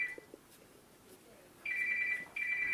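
A mobile phone rings near the microphone in two steady electronic bursts separated by a short gap, with faint background noise and no talk over the ringing.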